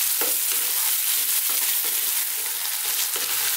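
Potatoes, garlic and ginger frying on high heat give a loud, dense sizzle. A utensil scrapes the pan in a regular stirring rhythm, close up with no voices.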